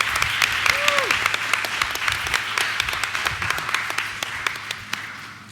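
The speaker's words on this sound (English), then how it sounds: "that deserves a round of applause for all of these folks up here" Applause from the audience at a board of education meeting: continuous, fairly loud clapping from a room full of people, with a brief voice or whistle-like sweep rising above it early on, fading slightly at the end.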